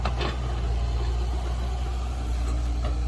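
Komatsu PC70-8 excavator engine running steadily at a low idle, a deep constant rumble at moderate distance with no talk.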